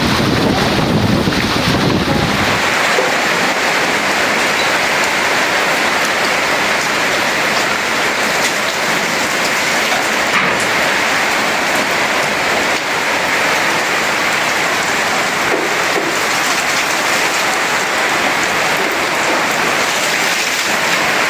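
A storm lashes a pond bank with heavy rain and gusting wind, a loud, dense roar of rainfall and buffeting wind on the microphone that persists unbroken.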